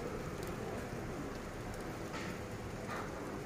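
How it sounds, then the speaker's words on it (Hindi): Sudden rain falls steadily in a soft, dense hiss, with faint scattered drips and patters throughout. "बारिश अचानक शुरू हो गई"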